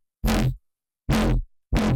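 A synth bass made in FL Studio with no comb filter sounds three short, heavy, buzzy notes, each stopping abruptly, with silence between them.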